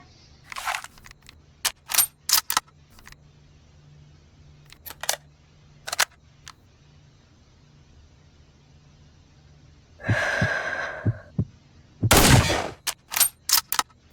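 Sniper rifle shots from an M24 or M14 fired at a target 250 meters away: sharp, isolated cracks spaced several seconds apart, with a couple of louder, longer bursts of noise near the end.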